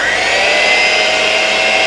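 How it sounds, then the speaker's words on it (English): Key lime pie filling being whisked together, a steady, loud, continuous whirring and swishing with no breaks, heard up close and alone. "Just gonna whisk this together"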